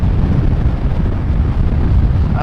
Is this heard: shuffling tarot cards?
no